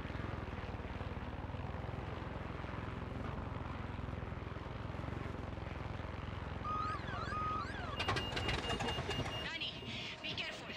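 Enemy helicopter in the video game Far Cry 6 drones with a continuous rotor and engine roar overhead, steady and fairly loud, with game sound effects layered near the end.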